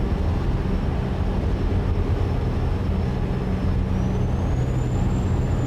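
A heavy truck drives on an interstate in American Truck Simulator, with a steady, loud engine drone and road rumble throughout and a faint high whine rising slightly near the end.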